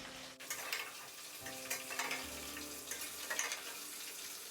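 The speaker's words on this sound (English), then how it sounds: "when you're cooking the mushrooms and they're not double battered, you have to make sure the heat is high" Battered mushrooms fry in a hot pan with a steady, close sizzle and crackle, joined by occasional clinks and stirring noises and a low rumble partway through.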